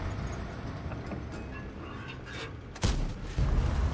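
Tank cannon fire in World of Tanks, a GSOR 1010 tier 8 tank shooting premium rounds near maximum view range: a rumbling battle bed, then a sharp heavy blast near the end followed by a second loud boom.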